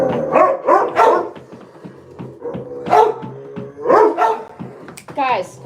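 Several sharp, high-pitched puppy barks and yips repeat irregularly, close and loud, with brief whines between them.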